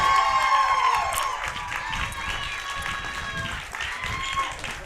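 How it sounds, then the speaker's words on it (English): A crowd at a softball game cheers and shouts, with bright voices and some applause in a continuous, fairly loud swell that eases slightly toward the end. "And there goes the crowd."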